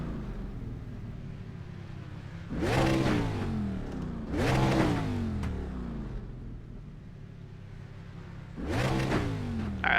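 A K&N stock race car engine in the iRacing sim revs hard in three loud separate bursts, each a rising then falling roar, with a lower idle rumble in between.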